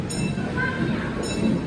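A ride train at Europa Park theme park rumbles past nearby, a steady rolling noise with faint wheel squeal, while someone talks over it.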